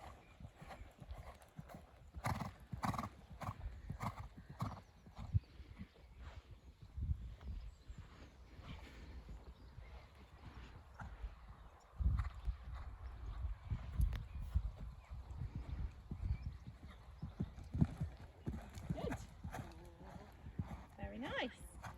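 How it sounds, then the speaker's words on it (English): A horse canters through a showjumping warm-up, its hooves thudding in a steady rhythmic beat at moderate distance while people talk over it. "So come as you usually would. Yeah. Okay. That nice canter rhythm."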